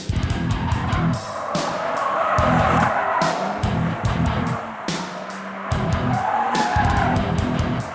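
A Mercedes-AMG A 45 S hatchback's engine roars hard and close, with tires squealing and the revs rising and falling as it accelerates past at speed.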